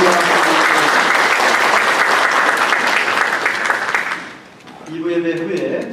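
A church congregation applauds loudly to welcome a member as she stands during the service. The dense, steady clapping lasts about four seconds, then fades out, and a voice speaks.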